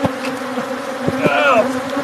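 A swarm of bees gives off a steady, close droning buzz with a persistent tonal hum and a few brief louder passes, heard alone without talk.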